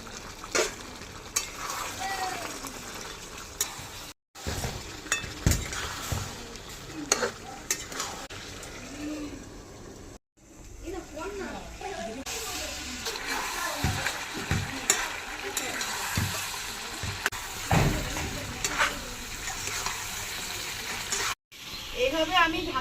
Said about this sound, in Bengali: এইভাবে আমি ঢাকা দিয়ে দিয়ে মাংস কষিয়ে নিয়েছি আর মাংস কষানো হয়ে গেছে।